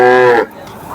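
A cow at a busy cattle market at Lasur Station lets out a single loud, deep moo close by, the call holding briefly before breaking off into quieter background noise.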